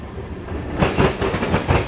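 A freight train of hopper cars and loaded ammonia tank cars rolls past close by, its rumble swelling suddenly into loud, rhythmic wheel clatter.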